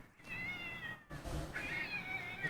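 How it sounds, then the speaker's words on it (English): Two cats fight outdoors with rising, wavering caterwauls and yowls, one long howl, a brief gap, then a second louder, higher wail that holds steady and close. "these cats are going at it"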